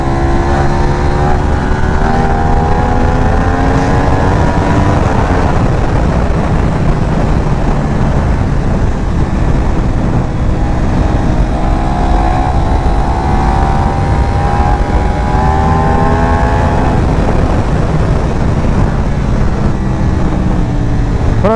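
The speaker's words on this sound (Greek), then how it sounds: "Το Ducati Panigale V4 220 μοντέλο" A Ducati Panigale V4 220 motorcycle engine roars loudly and continuously while riding, its pitch climbing and dropping through repeated acceleration sweeps and gear changes, with no talk over it.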